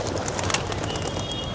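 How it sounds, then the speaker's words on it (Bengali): Homing pigeons are released outdoors, with soft cooing and a dense flutter of wings against a constant, loud background hiss. "বিয়াই চলেন আমরা কবুতরগুলো ছেড়ে দিই"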